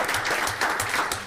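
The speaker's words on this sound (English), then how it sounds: "Something to clap about." Brief applause from an audience at a township council meeting, a short, moderately loud burst of clapping from a modest crowd.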